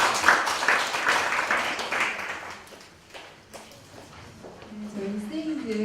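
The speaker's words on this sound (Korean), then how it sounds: "떨리실 건데 박수로 한번 정리해 주세요" At a church teachers' training lecture, an audience bursts into loud clapping that fades over a couple of seconds before a voice takes over and talks on.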